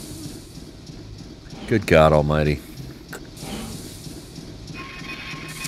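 Chuffy the train chugging along in the Banjo-Tooie video game, a quiet mechanical rhythmic rattle and hiss in the background, with a man briefly exclaiming over it.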